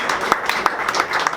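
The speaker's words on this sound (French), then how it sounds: "on peut l'applaudir pour ça" A crowd applauds at a wine auction presentation in Nuits-Saint-Georges, with dense, steady clapping heard from close by.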